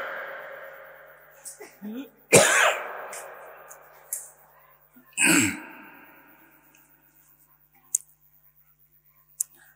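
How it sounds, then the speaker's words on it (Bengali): During a Bangla religious sermon, a preacher gives two loud, harsh coughs a few seconds apart, with faint throat noises and small clicks between them in an otherwise quiet space. "আমার একটা কাশি আসছে"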